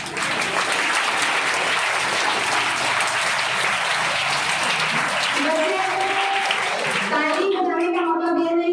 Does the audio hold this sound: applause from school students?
yes